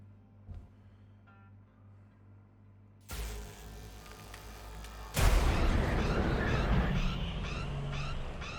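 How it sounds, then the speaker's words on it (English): An explosion in the game Hardspace: Shipbreaker: a muffled thump, then a heavier blast at about three seconds, and a louder roaring burst that swells and rumbles on to the end. "Why did I hear the explosion sound?"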